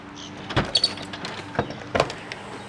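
Rear door of a Nissan Patrol being opened: a few sharp clicks and clunks of the latch and hinges, close and fairly quiet, with a brief mechanical whir and no talk.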